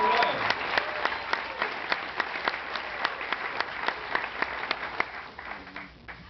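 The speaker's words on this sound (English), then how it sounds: "Round of applause for this lady." A festival audience applauds a woman from North Carolina, a crowd wash of clapping with one sharp, rhythmic near clapper beating steadily on top and voices underneath.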